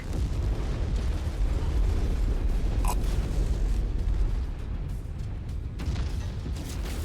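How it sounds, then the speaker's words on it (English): A mech is destroyed by an internal ammo explosion in the MechWarrior 5 video game, a loud, rumbling blast with a sharp crack near the middle, set against a constant roar of battle noise. "Internal ammo explosion detected."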